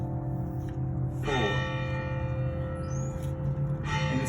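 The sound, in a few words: church bells ringing the hour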